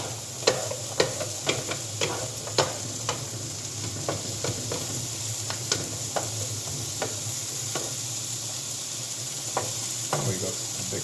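Pork cubes frying over a high flame as sweet Thai pork is cooked, a steady loud sizzle broken by regular sharp clicks of a utensil stirring and tapping the pan.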